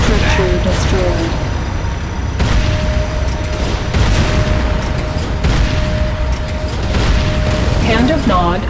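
A GDI structure blowing up in the Command & Conquer game Renegade makes loud, dense booms and crackling blasts, with a game announcer's voice speaking over the din.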